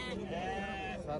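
Young lambs bleat loudly and close by at an open-air livestock market in Sokuluk, one long wavering cry filling most of the moment, with crowd voices around.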